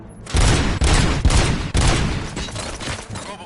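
Bursts of rapid gunfire rattle loudly in RoboCop: Rogue City, several overlapping volleys in quick succession that stay intense for a few seconds before easing slightly.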